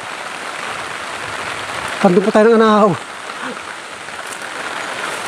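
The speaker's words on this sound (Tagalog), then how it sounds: "inabot na po tayo ng ulan" A continuous wash of rain falls on a hilltop farm planted with corn, vegetables and coconut trees, holding steady in the background while someone talks briefly near the middle.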